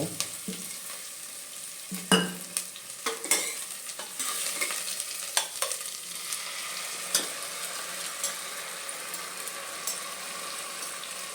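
Ground masala for an avare kalu (field bean) sambar hits hot tempering in a village-style kitchen, giving a steady close sizzle with sharp bursts of stirring and scraping early on, then settling into continuous frying hiss.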